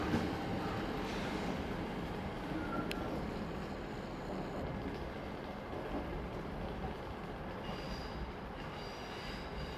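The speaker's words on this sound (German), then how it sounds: "Ausfahrt der Regionalbahn nach Schlüchtern." A DB class 440 regional electric multiple unit departs Würzburg Hauptbahnhof, a dense steady rolling rumble with wheel noise and faint squeal running throughout, close and loud.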